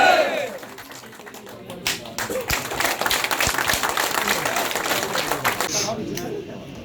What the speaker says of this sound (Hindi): और जोरदार ताली मारोगे।